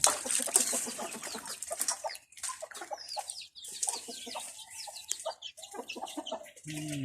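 Several farm chickens cluck and chatter close by in a dense, overlapping stream of short calls, with a lower call breaking in near the end.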